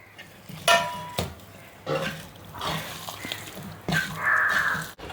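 A pot of mango curry being mixed, with a spoon scraping and knocking against the sides in a few distinct bursts, close and moderately loud, with no talking.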